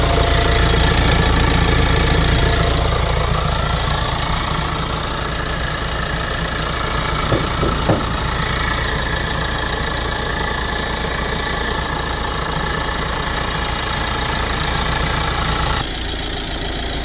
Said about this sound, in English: I'm going to have the engine running for this